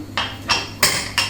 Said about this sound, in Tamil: விசில் வச்சிடலாம்